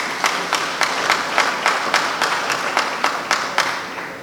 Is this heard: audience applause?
yes